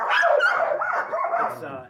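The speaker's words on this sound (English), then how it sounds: "No, these are actually Ryan Reddington's dogs." Sled dogs bark and yelp continuously in a noisy, excited chorus close by, with rising and falling whines mixed in.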